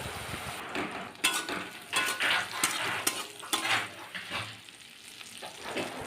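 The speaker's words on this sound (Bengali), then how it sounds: "নুন হলুদ মাখানো চিংড়ি মাছগুলো তেলের মধ্যে দিয়ে দিয়েছি একটু ভেজে নেব" Prawns rubbed with salt and turmeric fry in hot mustard oil, a close sizzling crackle with repeated spatula scrapes and knocks against the pan, rising and falling in loudness.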